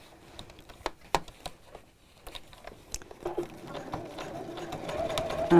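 A domestic sewing machine stitches fabric slowly around a curved corner, its needle ticking in short uneven bursts with pauses, then running into a steadier, louder whir near the end.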